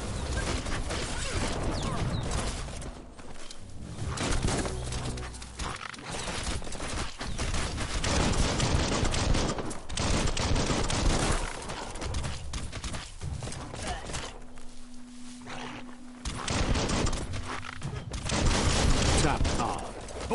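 Continuous gunfire in a zombie mutation shooter game, dense overlapping automatic bursts and rapid shots across the whole stretch, loud and close, with brief lulls and some talk mixed in.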